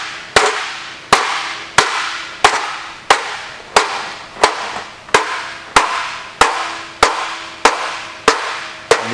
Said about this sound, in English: You're going to have to hit it, make it all what I call confused like that, partially shrunk.